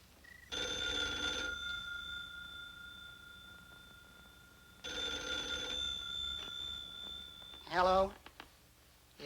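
An old-fashioned telephone bell rings in two long bursts of steady metallic trilling, separated by a pause, followed by a brief clatter as the receiver is picked up.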